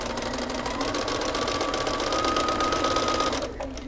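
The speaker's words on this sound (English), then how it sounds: "I'm gonna stitch until I'm the same distance away from the edge" A sewing machine stitches binding onto a quilt, a steady fast needle rattle running close and loud with no pauses, easing off only at the very end.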